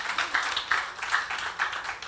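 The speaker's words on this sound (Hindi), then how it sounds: "2 तालियां दी सिस्टर जी के लिए" A church audience at a ministries program in Sharjah claps for a sister, steady rhythmic applause in separate bursts of clapping, moderately loud and close, with no voices over it.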